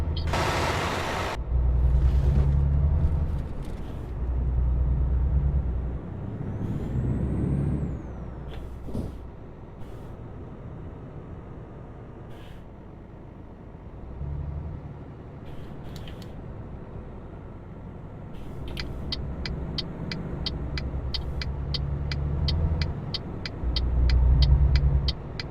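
A truck in a driving video game rumbles along with low engine drone, bursts of air-brake hiss and retarder braking, plus a rapid ticking indicator near the end.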